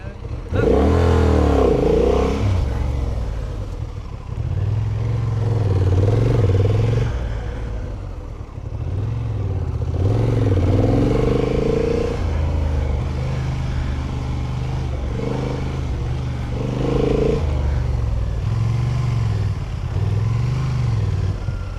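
A Honda Hornet 750 motorcycle ridden through a gymkhana course, its engine repeatedly revving up and dropping back in loud, close bursts, with voices talking over it throughout.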